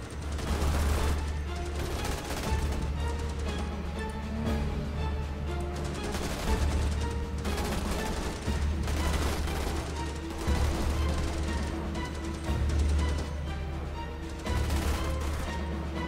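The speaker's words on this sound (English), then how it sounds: "Get those MGs firing." Sustained machine gun fire from a Starship Troopers: Terran Command battle, continuous and dense for the whole stretch with heavy low-end rumble and surging bursts, no voices over it.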